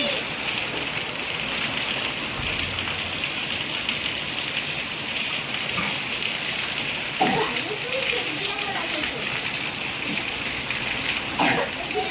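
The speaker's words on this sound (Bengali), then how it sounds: "দেখো বৃষ্টি শুরু হয়ে গিয়েছে।" Steady rain falls in a monsoon downpour, a dense even hiss that runs unbroken for the whole stretch, with a few faint knocks and a voice briefly in the background.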